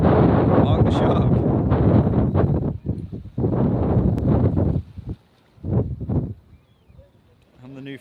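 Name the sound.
strong wind blowing over a boat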